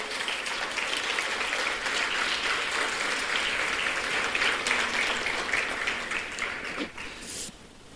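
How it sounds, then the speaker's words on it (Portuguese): A church congregation breaks into sustained, dense applause during a sermon, loud and continuous for several seconds before thinning out at the end. "Se é para aplaudir Jesus, aplaude logo, irmão."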